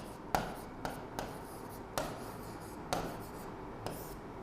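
Chalk or marker strokes on a classroom board during a lesson, a handful of sharp taps and short scratchy strokes spaced irregularly, fairly faint, with no voices.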